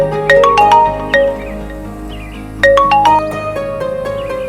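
A phone plays a loud, bright melodic ringtone, a short chiming tune that sounds once and then repeats, with nothing else heard over it.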